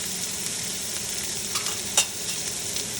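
Onions frying in cumin-scented oil give a steady close high sizzle, with a brief louder stir or scrape near the middle and no talking.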